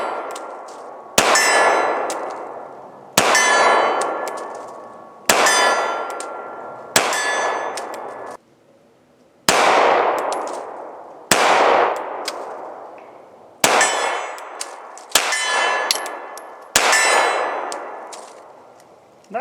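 Ten pistol rounds from a Springfield Hellcat ring off a steel silhouette target, each shot a sharp bang followed by a bright metallic clang that decays, fired in a steady, evenly spaced string with no talk.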